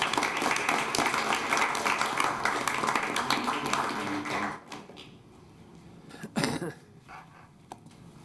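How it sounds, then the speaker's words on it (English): Applause from the audience at a commission meeting, dense and steady for about four seconds before dying away into a quieter room with a few scattered claps and small noises. "I guess we can give them an applause."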